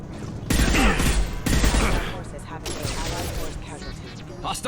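Dense bursts of gunfire in the video game Mass Effect 2, loud rapid volleys from disruptor-ammo weapons against mechs with explosive crashes, dense throughout the clip.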